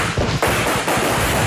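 Houthi fighters fire guns at an Israeli flag inside a mock military camp during a raid, producing several sharp, loud shots in quick succession with a reverberant tail.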